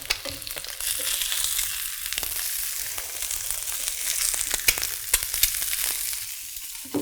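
A yellow corn tortilla crisps in a cast iron pan with a steady, close hiss of sizzling, broken by a few faint ticks and pops, with no one talking.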